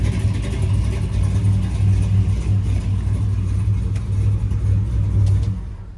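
A 1986 GMC Sierra pickup with an LSX V8 swap rumbles loud and close, holding a steady throaty drone with slight rises in revs before easing off.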